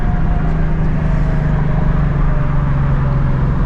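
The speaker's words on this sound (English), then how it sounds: "You can hear the active rev match kind of kicking in, which is super, super nice." A 2024 Mustang GT V8 with active rev match, running loud and steady from inside the cabin during a drive, with a continuous low engine drone and a slight lift in pitch as the revs match.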